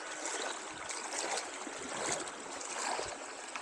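Feet wade through deepening cold water inside a cave, a steady close sloshing and splashing with continuous watery churn and no talking.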